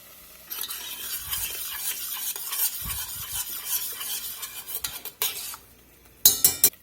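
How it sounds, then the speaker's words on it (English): Chili sauce sizzles steadily in olive oil in a pan while a utensil stirs and scrapes, with a few clinks of metal and a sharper clatter near the end. "We're going to let that chili sauce fry there in that olive oil for just a minute."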